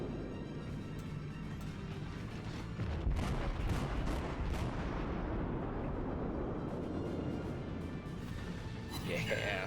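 Warship broadside gunfire in World of Warships during a Tier VI battle, heavy booming salvos rolling together into a dense, sustained rumble with crackling blasts on top, loud and close, while a voice talks underneath.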